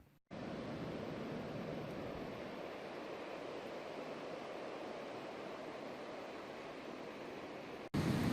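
Waves wash onto a beach on Vancouver Island as a steady, dense roar of surf that holds at an even level throughout, with no voices.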